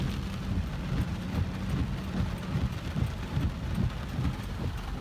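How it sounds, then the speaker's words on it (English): Heavy rain pours steadily in Manila, a dense, loud, continuous hiss with low rumbling underneath and faint traffic mixed in, with no voices. "It's raining bad now."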